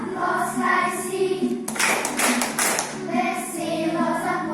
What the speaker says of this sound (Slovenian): Zaploskaj si,